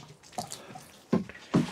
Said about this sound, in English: Give these lettuce a bit of a water.